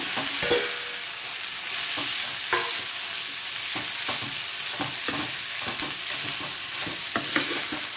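Rice with capsicum, carrot, cabbage, Schezwan sauce and salt frying in a pan, a steady close sizzle broken by scraping stirs and clinks for the whole stretch, no voices.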